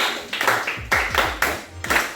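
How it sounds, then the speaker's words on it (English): Scattered hand claps from a small audience at a lecture on drug and substance abuse, a few uneven bursts of clapping with faint voices murmuring underneath. "Just give her a round of applause."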